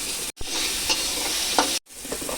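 Papaya pieces stir-fry in a wok with chopped onions over a cumin and dried-chilli tempering, a loud steady sizzle with scraping stirs, broken by two brief silent gaps.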